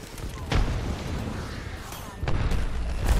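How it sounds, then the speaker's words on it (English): Gunfire in the battle game Apex Legends, with bursts around half a second and again past two seconds, mixed with players talking over the action. "I'm shooting these guys."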